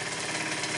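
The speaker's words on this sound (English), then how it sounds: "steam engines, marine steam engine" A small Microcosm M1 double-acting marine steam engine, 9.5 mm bore and 15 mm stroke, running with a steady rapid mechanical chuffing and knocking rhythm, close and fairly quiet, with no voices.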